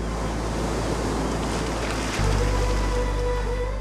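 Sea waves wash onto the shore in a steady surging roar with an even hiss, then swell a little louder partway through. No voices are heard.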